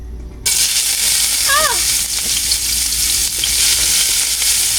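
Garlic and onion sizzle steadily in hot oil in a pan as cooking for ground beef begins, a loud continuous frying hiss with brief stirring scrapes and a short whistling tone partway through.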